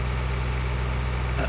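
Steady idling-to-driving vehicle engine from Farming Simulator 2013, a continuous low droning hum with constant loudness and a slight shift near the end, heard alone without talk.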